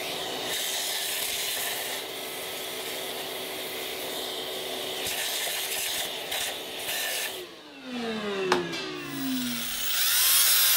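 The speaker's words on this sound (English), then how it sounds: "I want to clean these bores up first." Rusted engine cylinder bores cleaned with a power tool, a steady loud abrasive whir with grinding texture that shifts pitch and winds down near the end, then starts up again, close with no talk.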